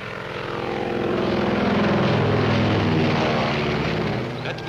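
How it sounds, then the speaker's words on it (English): A propeller airplane flies in to land, its droning engine swelling loud and close, holding steady, then easing slightly as it passes; no voices. "That's Marsden's plane."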